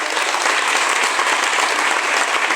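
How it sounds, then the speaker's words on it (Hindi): Loud, dense audience applause for senior experts at a stage program, a continuous wash of many clapping hands without a break. "हमारे सभी सीनियर्स एक्सपर्ट्स के लिए एक बार जोरदार तालियां हो गई"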